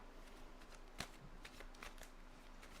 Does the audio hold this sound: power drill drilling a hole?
no